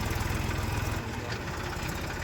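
A tractor engine sowing a farm field chugs steadily in a close, loud, low throbbing rumble with no break.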